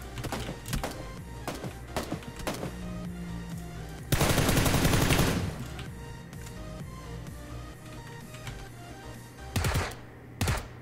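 Gunfire in the video game PUBG Lite comes as scattered single shots and short bursts, with one loud sustained automatic burst in the middle and a few sharp later shots over game background sound.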